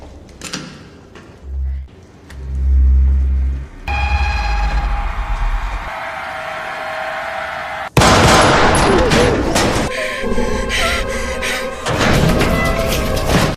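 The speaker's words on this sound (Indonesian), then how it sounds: "seorang wanita tua yang tadinya berpura-pura mati bangkit dan menembaknya tepat di perut" Gunfire in an action film scene where an elderly woman feigning death rises and shoots a man in the stomach, set among loud thumps, slams and sharp cracks with a dense burst of shots near the end, dramatic and close.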